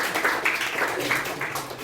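An audience at a youth event applauds with steady, moderately faint clapping that continues throughout with no voices on top.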